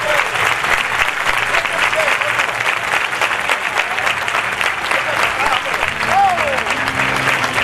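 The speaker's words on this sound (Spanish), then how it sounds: "un aplauso" Loud, sustained applause from a crowd at a bullfighting fair saluting the matador, dense continuous clapping filling the whole stretch with faint voices underneath.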